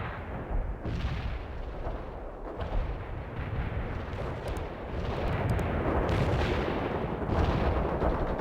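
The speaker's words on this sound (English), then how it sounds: "I direct the artillery fire" In the strategy game World in Conflict, artillery fire pounds in a continuous heavy barrage, with deep rolling booms and blasts that swell louder toward the end, with no talking.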